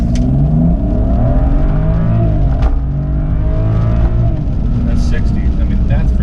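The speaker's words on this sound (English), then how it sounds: "So give it a little bit of revs, about 1500." A BMW F30 335i xDrive engine with an aFe cold air intake and Turner Motorsports tune revs to about 1500 rpm and holds a steady drone with rising and falling pitch, loud and close, with a person talking over it.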